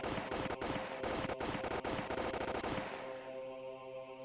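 Automatic weapons from the game Higurashi fire sustained rapid bursts, loud and continuous, then cut off and give way to a lingering tonal music drone.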